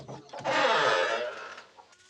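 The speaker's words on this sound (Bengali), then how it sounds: "আর এই যে আমাদের চীনা হাঁস" Muscovy ducks at a Bangladeshi homestead give a single raspy, hoarse call lasting about a second, close by and fairly quiet, with faint soft sounds around it.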